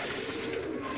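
Pigeons coo softly on a rooftop pigeon loft in Kamoke, a low murmuring purr held steady for a brief moment with no talk.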